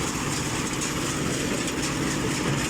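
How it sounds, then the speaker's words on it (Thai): Steady, loud engine drone of a hay baler running at high revs, a constant broadband roar with no speech. "แล้วก็เร่งเครื่องขึ้นครับเครื่องทำงานดูนะครับ"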